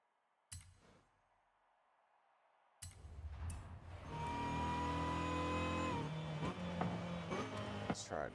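A 1993 Nissan 240SX SE engine in Forza Horizon 5, a sharp blip then a rising rev that climbs and holds, bouncing against the rev limiter in a loud, sustained whine with stuttering cuts near the end.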